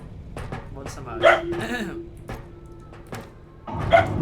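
A person hiccups a couple of times during a Filipino-language game session, each hiccup a short sharp burst rising over ongoing talk and game sounds.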